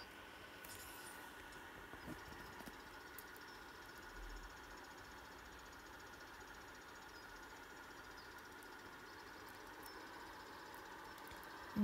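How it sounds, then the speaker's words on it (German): A car engine runs at a steady idle inside an automatic car wash, a continuous low hum with the machinery's broad whir, fairly close and unchanging, with no talk over it. "Lass ich meinen Motor an."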